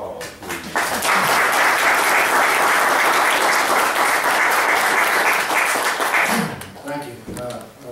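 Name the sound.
audience applause at county commissioners court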